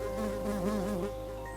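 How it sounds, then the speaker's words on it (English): A lone bee buzzes steadily and close by, its drone wavering in pitch as it moves about, with no talk over it. "That bee is ruining all the nature sounds"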